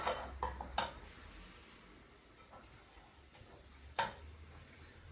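Spoon scraping and tapping against a pan while flour is stirred into cooked onions, a few quick clinks near the start and another sharp knock later over quiet background.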